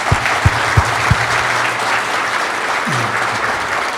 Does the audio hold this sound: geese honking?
no